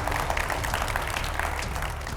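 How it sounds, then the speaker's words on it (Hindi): Studio audience applauding during a televised debate show, a steady dense wash of clapping heard from the crowd, fairly loud and continuous without a break. "एक बार जोरदार तालियों के साथ सभी का स्वागत हो जाए"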